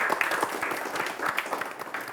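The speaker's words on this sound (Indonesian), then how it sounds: "Boleh kita kasih tepuk tangan lagi." Audience applause at a televised fencing achievement event, many hands clapping in a lively, uneven patter with distinct sharp claps, close and continuous for about two seconds.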